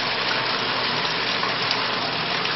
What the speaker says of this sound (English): Start the flow of water and let the instrumentation collect the data.